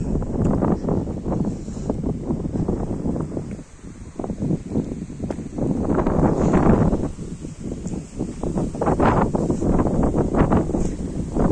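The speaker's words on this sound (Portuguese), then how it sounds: "o vento tá gostoso porque não tá frio" Wind gusts steadily across an open Irish farm, a continuous loud rumble and buffeting against the microphone that dips briefly midway, then surges again, with no voices.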